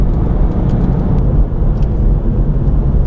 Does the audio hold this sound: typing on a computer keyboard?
no